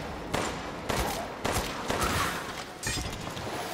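Repeated gunshots at enemies in Resident Evil Village, about five evenly spaced sharp shots roughly half a second apart, each with a short crackling tail over low game ambience.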